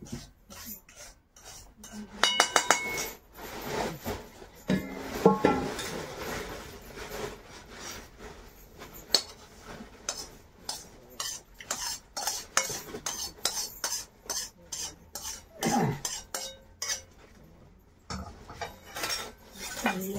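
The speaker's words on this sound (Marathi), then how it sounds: "तर कांदा भाजायला लागलोय आम्ही उपीट करायला." Onions are stirred and roasted in a pan for upma, giving a string of irregular metallic scrapes and clatters of a spoon against the pan, close and fairly quiet, with short pauses between strokes.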